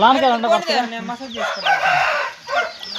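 A fighting rooster being trained for Sankranti cockfights crows loudly and close, with drawn-out calls and clucking, while a person talks over it.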